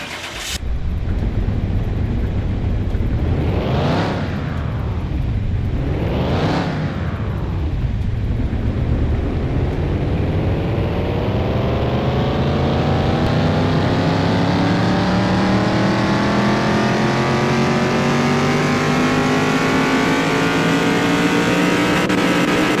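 A car engine in Car Mechanic Simulator 2021 revs hard on a dyno, climbing in two quick blips before a long sustained run that rises steadily in pitch, loud and continuous with no talk.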